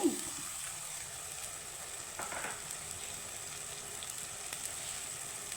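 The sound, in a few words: tomato paste frying in pan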